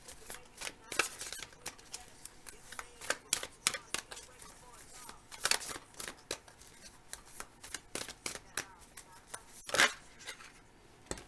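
Tarot cards riffle, tap and slap in a quick irregular run as the last card is drawn from the deck, with crisp close-up clicks and shuffles throughout.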